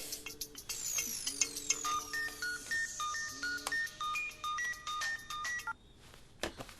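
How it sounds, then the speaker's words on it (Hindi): A mobile phone ringtone plays a repeating electronic melody of bright beeping tones, fairly faint and steady, with no voices over it. "अरे यार फोन तो उठा।"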